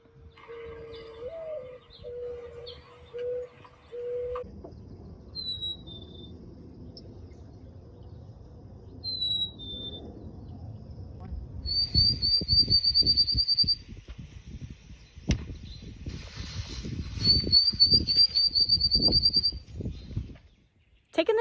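Backyard birds call and whistle in clear, separate phrases: a lower cooing note early on, then repeated high whistled trills spaced across the stretch, over a soft outdoor rumble that grows louder later.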